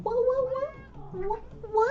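A pet cat gives a drawn-out, close meow with rising and falling pitch, followed by a second shorter meow, loud and clear in a quiet room.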